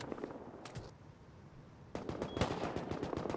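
Rapid automatic gunfire from the survival video game Rust, bursts of close, sharp shots in two clusters separated by a brief lull, loud and without talk.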